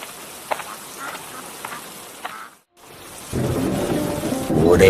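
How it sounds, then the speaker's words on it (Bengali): A heavy rain with thunder: low rumbling and a few distant ticks at first, then after a brief hush a loud, dense downpour roars in and builds toward the end. "কি জোরে বৃষ্টি নামছে!"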